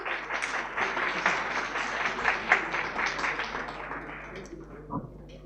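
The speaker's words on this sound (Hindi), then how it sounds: "जोरदार तालियां।" Audience members in a lecture-style gathering clap strongly for a speaker, a thick burst of applause that stays loud and then gradually thins and fades toward the end.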